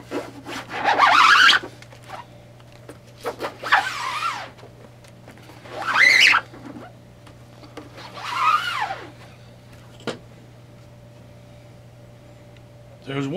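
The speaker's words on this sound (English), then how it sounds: "We're going to pull the squeegee a couple times, and we're going to see how we're doing printing these boxes" A squeegee is pulled across screen-printing mesh over cardboard boxes in four separate rasping strokes, each lasting a second or two, with short pauses between them.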